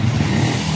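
Motorbikes on a road trip in Angola, a loud continuous low engine drone with a steady rumble that fills the whole moment, no voices over it.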